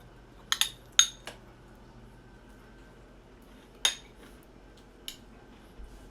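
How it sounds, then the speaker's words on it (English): A spoon mixes spinach ice cream in a bowl, giving a few sharp, quiet clinks spaced irregularly against a soft, steady background with no talking. "And you just mix it like this."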